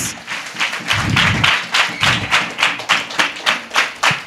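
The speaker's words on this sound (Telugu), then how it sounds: "give the claps to the lord Jesus" A church congregation claps in a steady, rhythmic beat during a Sunday service, starting loosely and settling into regular, even strokes, with a brief low thump near the start.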